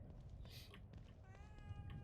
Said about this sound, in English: I've got a cat in the game yelling at me as well